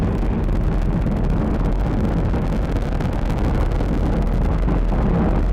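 A loud, continuous low roar and rumble, broad and steady throughout, as nine SpaceX Merlin first-stage engines thunder during a crewed rocket launch.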